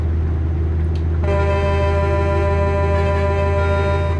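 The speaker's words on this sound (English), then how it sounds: "Sorry, I gotta honk the cops." Loud truck horn in the Truck Sim driving game, a sustained multi-tone blast starting about a second in and holding steadily to the end over a constant low engine rumble.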